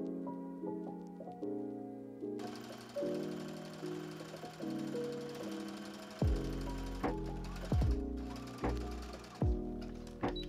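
A sewing machine stitches the crotch seam of doll-sized pants for a Barbie movie dress, running in repeated bursts with short pauses between, its steady mechanical whirr close and clear with no talking.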